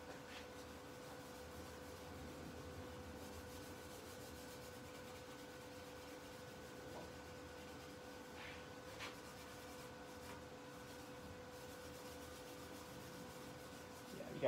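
Ultra fine 0000 steel wool scrubs steadily over rusty chrome on a Kawasaki KZ750 motorcycle, a faint, continuous rubbing hiss with a constant hum in the background.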